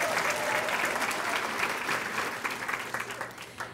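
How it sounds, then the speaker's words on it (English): Audience applause for table captains at a Girl Scouts Women of Distinction luncheon, a full room clapping steadily before the sound thins into scattered claps. "Please join me in giving the table captains a round of applause."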